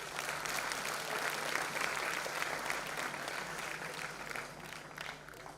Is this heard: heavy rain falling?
no